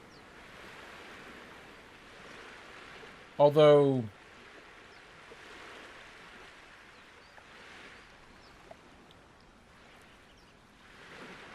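Soft rolling ocean waves in a survival video game, a faint washing backdrop that rises and falls, briefly interrupted by a short spoken word near the start.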